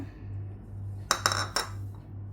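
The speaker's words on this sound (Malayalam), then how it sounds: "ഈ ഒരു മിക്സിയുടെ ജാറിലോട്ട് ഞാൻ പച്ചമുളക് അതുപോലെ തന്നെ കപ്പലണ്ടി ബാക്കിയെല്ലാം കൂടെ അങ്ങോട്ട് ഇട്ട് കൊടുക്കുകയാണ്" Green chilies and groundnuts dropped into a steel mixer grinder jar, three quick clinks and rattles in close succession, near and fairly clear over a steady low hum, no talking.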